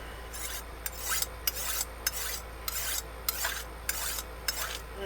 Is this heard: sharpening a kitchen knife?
yes